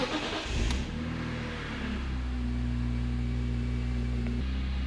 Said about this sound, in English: Let's crank this and see if it works.